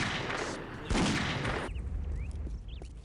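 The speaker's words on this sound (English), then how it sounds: "This place will explode no matter what you do." An explosion in the video game Postal 2: a loud dense burst of blast noise cuts off sharply, then lighter debris and crackling settle quietly afterward.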